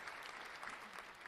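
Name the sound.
applause, clapping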